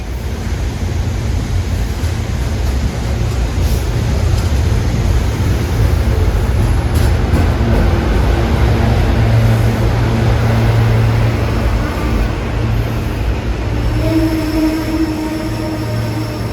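Silverliner 5 passenger train 9241 arriving at Wilmington, Delaware, a continuous loud rolling rumble with low drone and steady rail noise filling the whole stretch, a faint tone near the end, no voices.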